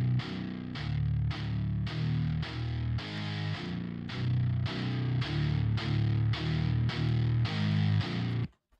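Heavily distorted virtual electric guitar from Shreddage chugs out a steady rhythmic riff of repeated power chords, loud and alone, stopping abruptly at the end.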